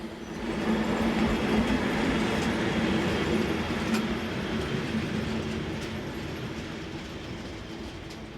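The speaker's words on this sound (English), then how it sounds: "Local stopping services from Namur to Liège are mostly in the hands of veteran class AM73 units" A class AM73 electric multiple unit train rolls steadily along the rails on a local stopping service from Namur to Liège, Belgium, with a continuous low rumble and faint clatter, loud and close, fading slightly as it continues.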